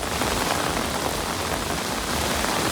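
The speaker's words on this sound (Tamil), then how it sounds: "ராணிப்பேட்டை மற்றும் அதன் சுற்றுவட்டார பகுதிகளிலும் இடியுடன் பரவலாக மழை பெய்தது" Steady rain pours over the Ranipet area during a thunderstorm, a dense, even hiss of drops on surfaces that stays loud and constant with no distinct thunderclap standing out.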